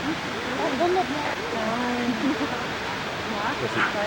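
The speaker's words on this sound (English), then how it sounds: "Now here we are on top of the waterfall looking down." A waterfall heard from the top, a steady broadband rush of falling water filling the clip, with voices faintly talking over it.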